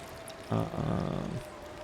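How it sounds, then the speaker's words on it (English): Water being boiled over a fire in the survival game The Long Dark: a burst of bubbling, roiling sound starts abruptly and carries steadily for about a second before cutting off, moderately loud over quiet ambience. "let's boil up that little bit of water that I had going"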